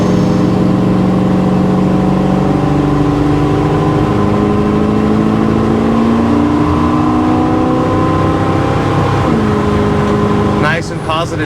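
An engine hums steadily from inside a 1984 Chevrolet C10 pickup truck, climbing in pitch through the gears as it speeds up on a road, with a brief shift near the end.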